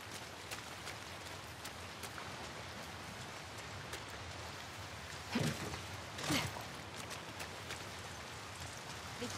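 Steady rain falls across an outdoor scene in The Last of Us Part 2 on PS5, a continuous soft patter with a couple of louder gusty swells near the middle.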